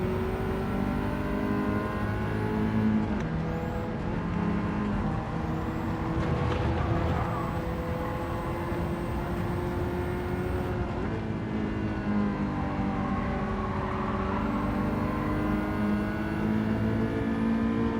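A 1980s car in Gran Turismo 7 online lobby racing drones steadily at high revs, with the engine pitch rising and falling through gear changes for the whole stretch, loud and continuous with no talk.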